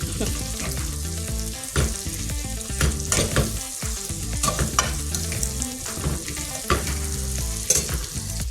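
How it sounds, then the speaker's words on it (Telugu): Kudra curry ingredients stirred and fried in a pan, a dense continuous sizzle with repeated scraping strokes of the spoon, loud and close with no talk. "ఇప్పుడు ఏమి ఉండదు ఈ మొత్తం తిప్పేసుకుంటాం కొంచెం అటు నుంచి ఇటు"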